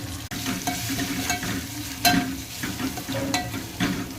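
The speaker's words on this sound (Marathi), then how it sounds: "मस्त ही भाजून घ्यायची" Spices sizzle and fry in hot oil for moong dal curry, with a spoon stirring and scraping the pan in irregular strokes over a steady crackle, close and alone.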